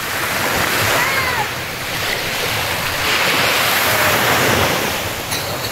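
Surf rolls onto the shore of Pagudpud beach, loud and close, with waves rising and falling in a steady wash under gusts of wind buffeting the microphone.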